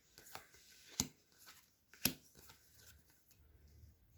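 Fortune-telling cards being handled, soft rustling with two distinct sharp card snaps about a second apart, close and quiet with no talking.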